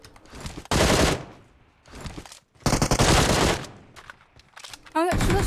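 Several loud, close bursts of automatic gunfire in the mobile battle-royale game PUBG Mobile, separated by short quieter gaps, with a sharp chirping burst near the end.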